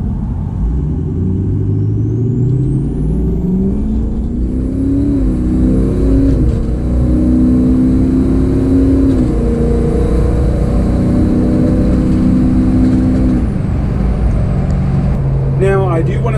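A 6.0 Powerstroke diesel truck with an SPD tune accelerates at about half throttle with tow/haul mode on, a loud continuous engine drone rising in pitch through the gears, heard close from inside the cab.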